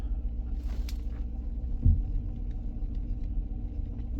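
A car being inspected at an auction idles with a steady low rumble, close and moderately loud, with a brief soft thump partway through as it is put into gear.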